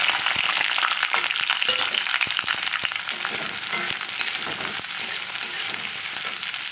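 Chilli and capsicum frying in sunflower oil in a pan, a steady bright sizzle with crackling spatters that runs the whole time, close and loud with no voices.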